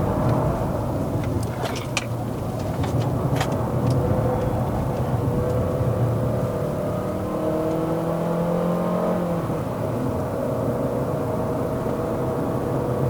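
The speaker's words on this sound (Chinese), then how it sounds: "CVT 的声音开始出来哦" Rising whine of the CVT transmission in a 2023 Chery Omoda 5 1.5T at high revs while climbing the mountain road to Genting in Malaysia, a steady engine drone with tonal whirring that swells and climbs in pitch.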